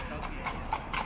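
Horse hooves clip-clop on a European street in a quick, uneven rhythm of several close strikes, with a voice talking alongside.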